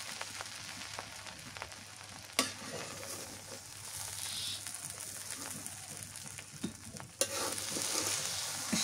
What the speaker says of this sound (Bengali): সর্ষের তেল দিয়ে যে ভাজলাম।